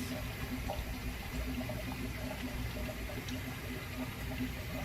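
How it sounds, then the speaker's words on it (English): A garden hose flushes coolant and rusty gunk out through the heater core of a 1998 Lincoln Town Car, making a steady, continuous rushing and splashing of water throughout. "Just use your hose on the stream."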